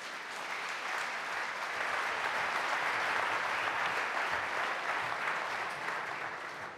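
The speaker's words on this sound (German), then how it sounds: "Herzlich willkommen auf der Bühne und Sie bekommen jetzt auch einen Applaus." An audience at a panel discussion on energy supply in Europe applauds guests arriving on stage, a steady, full wash of clapping that swells slightly midway and holds throughout.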